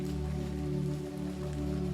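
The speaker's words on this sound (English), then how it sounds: "It's unlikely there will be a break in the rain today" Steady rain falling and pattering on a surface, a constant even hiss throughout with no other sounds.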